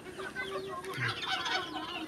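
Several chickens cluck and chatter together at close range, a busy overlapping flurry of short calls, with a faint low peep among them.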